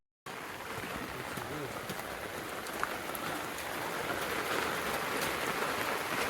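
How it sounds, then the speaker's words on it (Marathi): Heavy rain falling in a Konkan village, a steady loud hiss of drops on surfaces that swells slightly over time, with a faint voice now and then. "पाऊस मोठा आहे."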